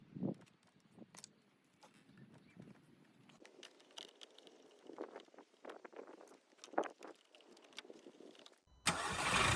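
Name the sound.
car engine running, 2.0 TFSI Golf MKV GTI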